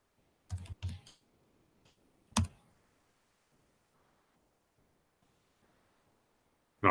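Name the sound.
typing project name on computer keyboard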